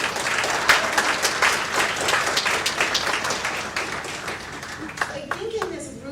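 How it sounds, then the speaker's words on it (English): An audience at a community partnership forum in Yuma breaks into steady, dense applause that carries on for several seconds before thinning, with a few voices rising near the end. "Round of applause"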